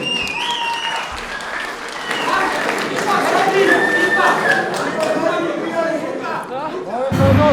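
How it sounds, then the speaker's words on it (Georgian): Audience applauds grappling athletes at a Brazilian jiu-jitsu match between Gymnasia BJJ and Warriors Tbilisi, steady clapping with crowd chatter under a commentator's talk. "აპლოდისმენტები ბიჭებს"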